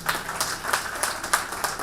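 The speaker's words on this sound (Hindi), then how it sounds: "मैं चाहूंगा एक बार ऋषभ के लिए भी जबरदस्त तालियां बजा दें।" Audience clapping at a family fun club event, a brief patter of scattered handclaps from a modest crowd, fairly close and uneven, with no talk over it.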